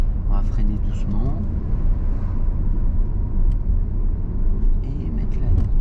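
Car engine rumbling and pulling steadily under acceleration during a driving lesson, a constant low drone throughout with a voice speaking over it.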